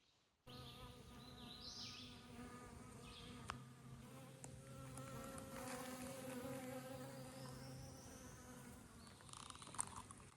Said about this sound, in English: This whole field is just swarming with bumblebees out pollinating all of these little flowers.